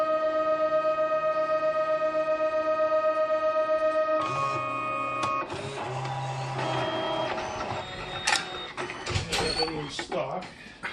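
A Fargo HDP card printer running its self test gives a steady pulsing electronic tone, then shifts into whirring, clicking and clunking mechanical feed noises with short rollers and motor hums, close up, while a person talks throughout.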